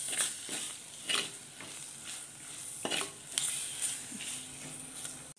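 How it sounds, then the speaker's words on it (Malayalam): Spice powders and tomato stirred in a pan for a fish curry with tart ambazhanga: repeated scraping strokes of a spoon against the pan over a constant sizzle of frying, close and moderately loud, with no talk. "എല്ലാം ഒന്ന് ഇളക്കി കൂട്ടി പച്ചമണമൊക്കെ ഒന്ന് മാറണം"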